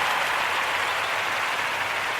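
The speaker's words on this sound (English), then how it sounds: "I want to give a round of applause again to those babies born on Ujima" A round of applause from a gathered audience, a steady wash of clapping hands heard at a moderate distance, continuous and even with no voices.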